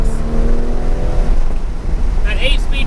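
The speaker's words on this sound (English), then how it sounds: "8-speed transmission just doesn't seem to have that rapid fire downshift" A 2020 Toyota Supra with an 8-speed transmission shifts down; the engine rises in pitch and note over a loud interior hum, with a voice talking over it.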